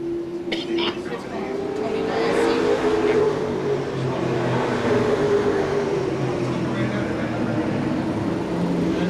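Stock cars race at Seekonk Speedway in 1994, a steady sustained engine drone with a rising and falling pitch as the pack passes, heard under continuous commentary.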